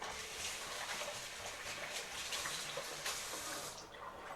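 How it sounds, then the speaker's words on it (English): Tap water runs steadily over hands being washed at a kitchen sink while cooking pork, a continuous broadband splash with faint patter, close and alone for about four seconds. "Wash my hands a little bit."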